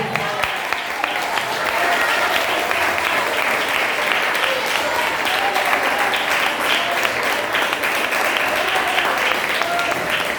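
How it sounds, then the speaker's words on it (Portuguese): A church congregation gives sustained, loud applause at a service, a dense, steady wash of clapping with voices mixed in, lasting about ten seconds. "Vamos dar para Ele a nossa melhor salva de palmas em nome de Jesus."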